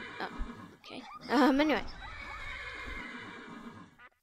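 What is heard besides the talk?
horse neighing in a modded video game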